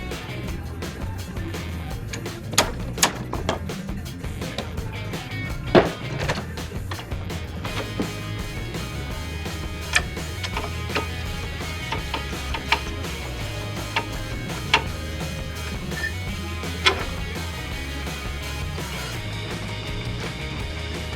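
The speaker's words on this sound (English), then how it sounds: "use an 18 and break that bolt free" An 18 mm wrench works loose the front axle pivot bolt on a John Deere tractor, with scattered metallic clicks and knocks over a low background rumble, up close and without talk.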